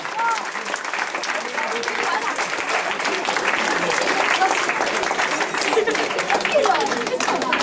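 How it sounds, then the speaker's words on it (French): Sustained, dense applause rises from a crowd honoring chess champions at the 2011 Corsica championship, steady and full throughout with some chatter and voices mixed in. "On applaudit très très fort les champions de Corse 2011."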